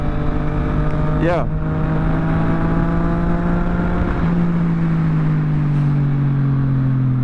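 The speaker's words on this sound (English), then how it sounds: "So you can hear the exhaust better and more clear." A Yamaha MT-09 motorcycle's exhaust drones steadily while riding, loud and close, with engine pitch holding then dropping slightly as the rider shifts, and a brief spoken word over it.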